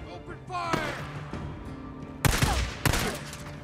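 Bursts of gunfire in the video game Days Gone, sharp loud cracks in quick clusters with game voices and effects between them.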